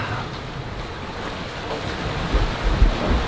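Steady wind and waves wash around a sailboat crossing the Bay of Biscay in 15 to 20 knots of wind, a broad continuous rushing roar with gusty low rumble and no voices.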